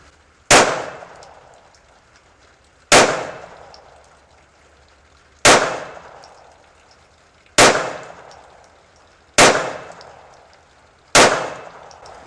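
Six sharp pistol shots fired at a target ten yards away from an old handgun with worn springs, evenly spaced about two and a half seconds apart, each a loud close crack with a short decaying ring.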